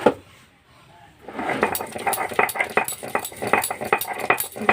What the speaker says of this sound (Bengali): এবারে ভালো করে বাটাটা হচ্ছে।